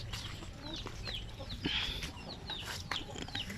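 Native sampin breeder chickens clucking and chirping in short repeated calls, close by over faint farmyard background.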